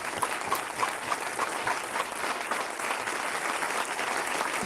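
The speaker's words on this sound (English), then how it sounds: "So please join me in giving these folks a round of applause." An audience at a candidate debate applauds steadily, a dense patter of many hands clapping at a constant level throughout.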